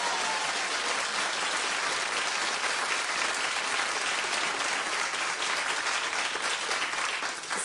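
A television talk-show studio audience claps loudly and continuously, a dense wash of applause with no talking.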